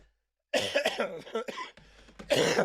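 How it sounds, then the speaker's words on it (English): A close, loud cough in a couple of rough bursts after a brief silence, followed by another harsh cough near the end. "Pardon my cough."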